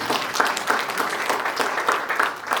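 A church congregation claps in praise during a sermon, steady rhythmic applause with pulsing beats, moderately loud and continuous for a few seconds.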